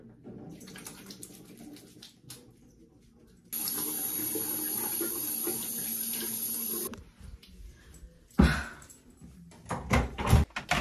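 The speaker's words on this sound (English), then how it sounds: "I'm gonna wash my face because I couldn't wash it this morning because I didn't have face wash" Water runs from a bathroom sink tap for a few seconds as someone washes their face, a steady close hiss that stops, followed by knocks and handling sounds.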